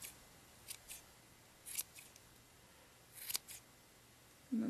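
Scissors snipping yarn tails while trimming a pom pom, a handful of quiet, crisp cuts spaced irregularly across a near-silent background, close by.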